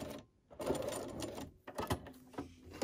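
A sewing machine runs a short back stitch on a pieced fan quilt block, two close, fairly loud bursts of rapid mechanical stitching separated by a brief pause.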